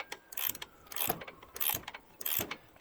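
A 3/4 wrench ratcheting on the front shock of a 1994-2002 two-wheel-drive Dodge Ram: close, crisp clicking runs in four quick bursts, heard alone.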